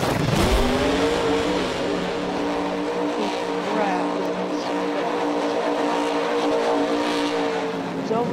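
A fast vehicle in Farming Simulator 19, boosted with nitrous and a supercharger, roars at high speed with a sustained, steady engine whine and rumble, loud and close, a sharp burst at the start.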